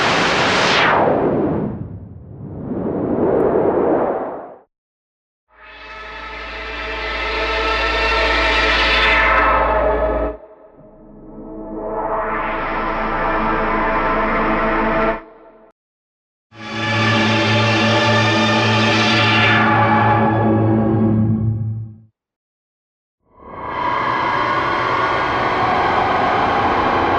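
Distorted, noisy glitch and broken-tape textures from a Kontakt sample library arrive in separate blocks, some sweeping in pitch and others buzzing with harsh tones, split by short moments of silence.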